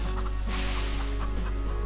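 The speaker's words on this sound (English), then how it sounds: "Chickens." Chickens cluck in the farming video game Farm Together, a few short clucks over a steady synthetic game backdrop with a constant low hum.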